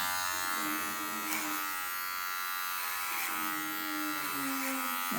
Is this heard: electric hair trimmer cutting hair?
yes